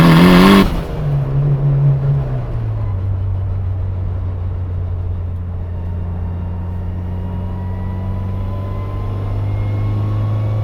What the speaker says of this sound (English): I'm in fourth gear, so it's got that fourth gear whine.